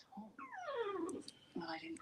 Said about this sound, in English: Sorry, my dog's in the background.